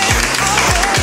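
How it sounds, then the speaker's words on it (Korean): A studio audience claps for the K-pop group SEVENTEEN on a variety show, a brief, steady burst of applause with low tonal sweeps underneath. "박수도 많이 쳐주세요 여러분."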